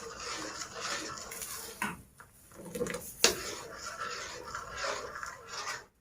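Tarhana mixture stirred quickly in a pot, giving a steady, dense scraping and swishing of a utensil with a few louder knocks against the pot.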